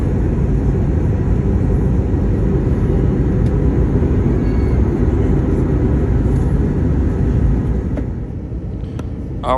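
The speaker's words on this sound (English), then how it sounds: "now it is our final approach into Orlando International Airport" Steady, loud broadband engine and airflow roar fills the cabin of a Frontier Airlines Airbus A321-200 on final approach into Orlando International Airport at sunset, easing slightly near the end with no voices.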